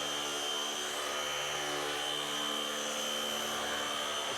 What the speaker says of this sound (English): So the vac seems to be working pretty good.